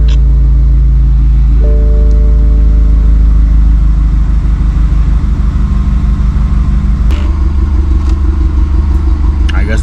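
A BMW F32/F30 with an N20 engine, just fitted with a new fuel pump, runs close by with a loud, steady low rumble that shifts in tone briefly once or twice.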